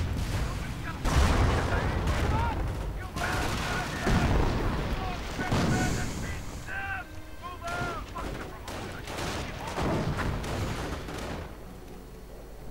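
Sniper and artillery fire in a World War II real-time strategy match with Panzer IV tanks, dense booms and gunshots layered continuously with battle noise, under steady commentary.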